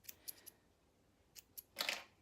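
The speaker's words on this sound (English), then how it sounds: "So just give them a snip" Scissors snip yarn tails left after overlocking knitted pieces, giving several light, crisp cuts close by: three quick snips, a pause, two more, then a louder, longer cutting burst at the end, with no talk.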